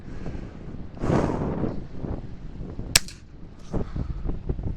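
A single sharp shot from a Chiappa Little Badger rifle during target practice outdoors, a brief crack near the middle amid steady wind buffeting the microphone and some handling rustle.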